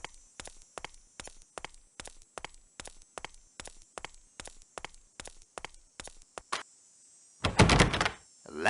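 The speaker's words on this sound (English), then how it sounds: "The door, it is locked tight." Locked door rattled repeatedly in Agatha Christie: Evil under the Sun, a rapid series of sharp knocking thunks in steady rhythm, followed by a louder burst of clattering noise near the end.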